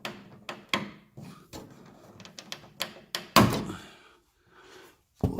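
The rear trunk of a BMW X3 F25 is opened, with a series of quiet clicks and thunks from the latch and lid followed by one louder thud, close and sparse with pauses between.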